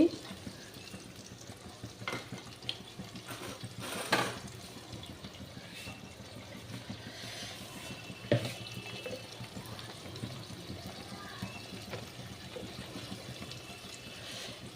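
Spices fry in a pan in a Bengali home kitchen, a steady close sizzle with occasional stirring scrapes and clinks, faint water in the background, no talk.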